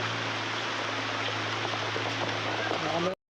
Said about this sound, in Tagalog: kaya lang malakas na ulan